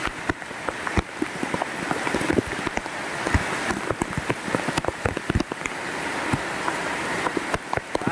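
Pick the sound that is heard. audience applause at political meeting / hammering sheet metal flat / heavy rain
heavy rain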